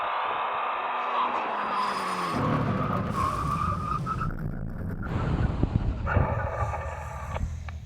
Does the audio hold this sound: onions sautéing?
no